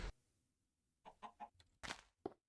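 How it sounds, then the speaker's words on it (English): A chicken in Minecraft gives a few short, quiet clucks in separate bursts, with brief gaps of near silence between them. "It's a chicken!"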